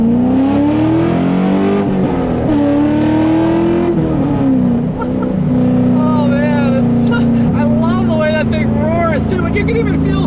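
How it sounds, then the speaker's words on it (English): A 2000 Chevrolet Camaro SS with a manual gearbox accelerates hard on a straight road, its loud engine note climbing in pitch, dropping at a shift, then rising again, heard close from inside. "let's do another acceleration here on a straight road"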